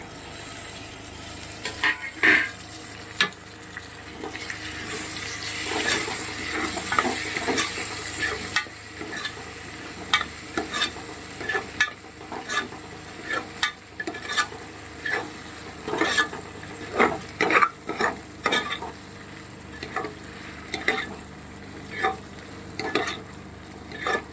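Chopped tomatoes sizzle in hot oil while a spoon scrapes and stirs them through a pan for vegetable biryani, with a steady frying hiss broken by repeated close metallic stirring strokes.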